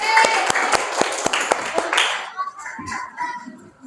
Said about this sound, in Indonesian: kasih tepuk tangan buat untuk kelompok 3